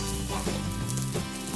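Paneer fried rice is mixed in a hot pan with vinegar just after the flame is switched off, a dense continuous sizzle with soft stirring scrapes, close and steady.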